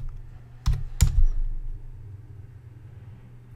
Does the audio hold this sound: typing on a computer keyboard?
yes